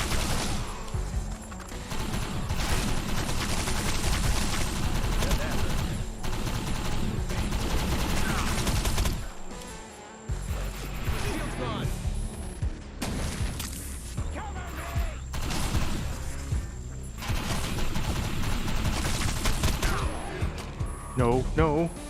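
Constant firefight in the video game Defiance, at night, with rapid gunfire and explosive crashes layered over a dense, busy mix. A voice runs under the shooting throughout.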